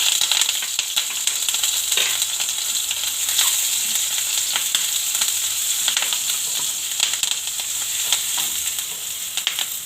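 Ginger, chillies and spices sizzle and crackle in hot oil for aloo kachori filling, a loud, close, continuous frying hiss with occasional stirring noises and no speech.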